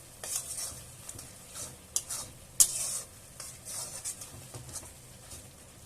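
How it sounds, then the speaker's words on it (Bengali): Spices with chili and turmeric powder stir-fried in a pan for a prawn and taro stolon dish, a faint sizzle broken by repeated scraping and clinking of a spatula. "লঙ্কার গুঁড়ো হলুদ গুঁড়ো দিয়ে এগুলো আমি ভালোভাবে কষাতে থাকবো"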